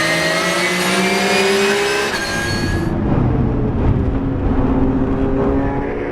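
Race cars, including a Ferrari 488, roar past during an endurance race at Dijon-Prenois. One loud, high-revving engine passes close, then gives way to a rougher mix of engines.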